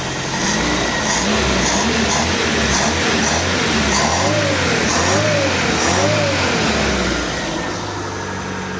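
An old Ford car engine that had not run for 40 years roars loudly and steadily, with rhythmic pulsing and slight rises in revs before easing off, heard close and alone.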